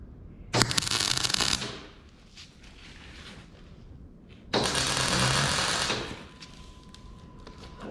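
Steel forks for a skid steer being welded, with mill scale left on the metal, give two loud bursts of crackling, hissing arc, each about a second long, separated by a few seconds of quieter shop noise.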